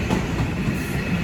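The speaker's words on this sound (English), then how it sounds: "And this is the 12:30 TfL rail service from Heathrow Terminal 5 to London" A TfL Rail train passes at Ealing Broadway on the Great Western Main Line, a steady close rumble with faint rhythmic wheel clatter, heard alone.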